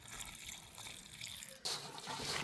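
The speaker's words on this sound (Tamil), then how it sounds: "நம்ம மாவுக்கு தகுந்த மாதிரி தண்ணி சேர்த்துக்கணும்" Water is poured into bonda batter made with quail and onion, a soft close trickle that turns into a louder gush partway through, recorded at low level with no voices.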